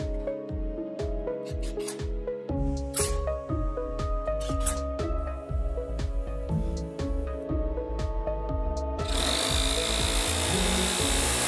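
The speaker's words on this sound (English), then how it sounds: "Cutting 16 gauge sheet metal with an electric shear is quite challenging and takes a fairly long time." Electric shear cutting 16 gauge sheet metal, a loud steady mechanical chatter and hum with rhythmic grinding cuts, ending in a harsher hissing rasp near the end.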